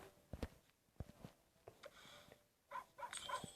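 A few short dog barks and yelps from a video game dog, fairly faint, scattered among soft thumps and small electronic chimes.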